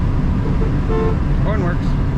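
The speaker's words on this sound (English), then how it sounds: "Horn works." Horn of a two-owner 1968 Ford Mustang Sprint hardtop, an original Texas car, giving a couple of short toots over steady engine and road rumble.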